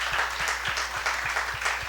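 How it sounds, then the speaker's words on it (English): Audience at a tech summit panel gives a short, dense burst of applause, many hands clapping steadily with no voices on top. "just another round of applause for the perspectives given on this panel"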